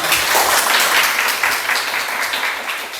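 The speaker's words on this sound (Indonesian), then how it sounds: "Kasih dulu tepuk tangan buat" Steady classroom applause from a crowd of hands, a dense patter of clapping that holds evenly throughout without a break.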